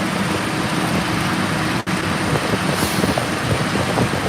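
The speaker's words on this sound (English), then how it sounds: "So they're bringing in the trucks." Trucks arrive at the SpaceX Starbase tank farm in Boca Chica, Texas, at night, giving a steady broadband engine rumble and road noise at a moderate distance, with one brief dropout partway through.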